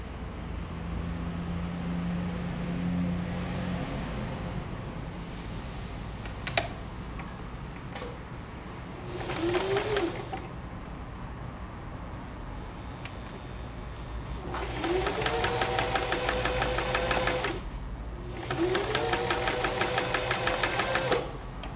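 A sewing machine stitches orange-block patchwork pieces in short bursts, with a brief run near the middle and two longer, louder runs toward the end, separated by quiet pauses.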